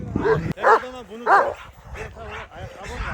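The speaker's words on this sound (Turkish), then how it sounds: "Bunlar daha genç köpekler" Several young Kangal dogs bark and yip close by in quick, overlapping bursts, some barks rising into whiny, high-pitched calls.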